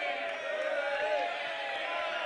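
Wild crowd at a beach volleyball event, a dense, steady wall of cheering and chanting voices filling the whole stretch at even loudness, with no single speaker standing out.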